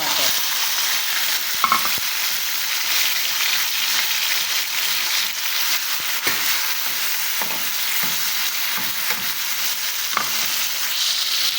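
Tomatoes fry with browned garlic in a pan, giving a loud, dense, unbroken sizzle close by that holds steady, with a few faint stirring scrapes now and then.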